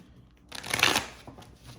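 Tarot cards being shuffled by hand, a quick riffling burst that swells and fades within about a second, close and alone after a brief quiet start.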